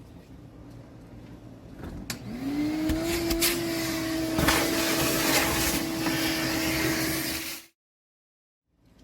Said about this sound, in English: I've got the shop vac hooked up. Let's switch it on and start cleaning this up.